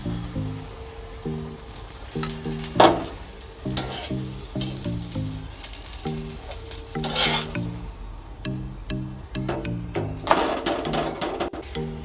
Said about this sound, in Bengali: এরকম অল্প অল্প তেল দিয়ে আমি পরোটাগুলো ভেজে নেব।